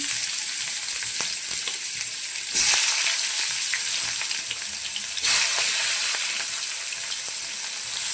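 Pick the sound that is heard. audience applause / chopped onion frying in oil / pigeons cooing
chopped onion frying in oil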